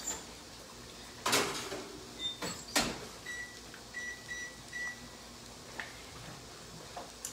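Turkey pot pie going into a kitchen oven: a sharp door clack, a second thud, then a short run of soft electronic beeps spaced apart, with quiet room background and no talking.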